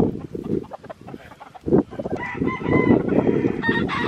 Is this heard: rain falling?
no